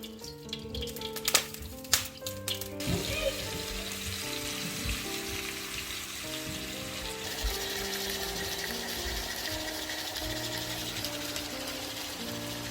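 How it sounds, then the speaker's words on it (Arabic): Chicken fried in a little oil for fajitas: a few sharp clattering clicks at first, then a steady close sizzle that continues alone to the end. "قليل من الزيت وجاي احمس الدجاج"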